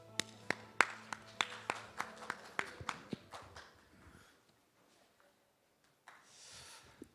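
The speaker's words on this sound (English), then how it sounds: "Please send warm applause." Sparse applause from a small audience at a battery industry forum, a dozen or so distinct claps in a loose rhythm that fade out into near quiet.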